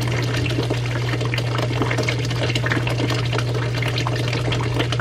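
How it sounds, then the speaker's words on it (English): A 6-inch water siphon runs with a steady rushing, gurgling flow over a constant low pump hum, water splashing and bubbling throughout at close range. "And there you go, the siphon's broke."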